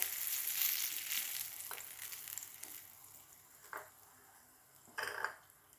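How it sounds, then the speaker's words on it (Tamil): Mustard seeds, urad dal and curry leaves crackle and fry in hot oil for a Guava chutney tempering, a steady fine sizzle with a few sharper pops near the end, no voices. "இப்போ கடுகு உளுந்தரப்பு போடுறேன் பொரியட்டும் இப்போ இந்த கருகப்பில்லை"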